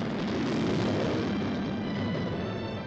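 Aircraft engines drone loud and steady from a 1980 cinema trailer reel for The Empire Strikes Back, a broad continuous roar with no voices over it.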